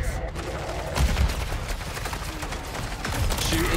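Rapid automatic gunfire crackles through a firefight against zombies in MW3 Zombies, with bursts and weapon mechanisms sounding over players' voices.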